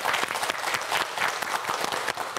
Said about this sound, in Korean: 다시 한번 박수 보내주세요.